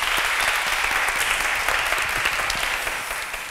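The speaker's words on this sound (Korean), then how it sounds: "다시 한번 큰 박수 부탁드리겠습니다" Audience applause for a professor at the close of a lecture on North Korea's economy, a dense, steady wash of clapping that holds evenly and tapers off at the end.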